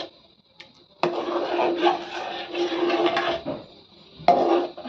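A spoon scrapes and clatters as palm fruit pulp and coconut are stirred in a pan over medium heat, in two close bursts of steady scraping separated by a short pause.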